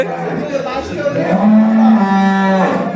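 A cow on a dairy farm in Dinajpur, Bangladesh lets out a loud, drawn-out moo close by, a deep bellow that swells and holds for a couple of seconds.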